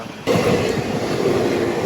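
The Seshadri Express running on the Kakinada to Tirupati route, heard from inside a general coach as a loud, steady rumble of wheels on track that starts abruptly and continues without talk.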